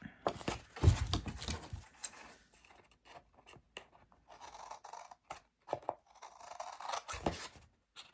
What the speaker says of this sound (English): I think the paper's crooked there, so trim that up a bit